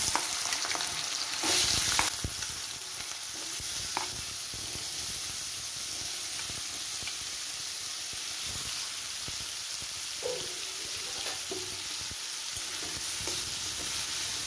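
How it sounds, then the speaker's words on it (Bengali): Potatoes fry in spiced oil in a kadai for chickpea ghugni, giving a loud, dense, continuous sizzle with a brief hiss near the start and scattered stirring knocks and scrapes throughout. "আমি এর মধ্যে আলুগুলো ছেড়ে দিচ্ছি"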